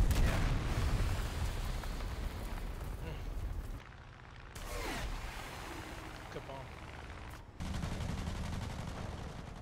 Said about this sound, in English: Oh, big bomb.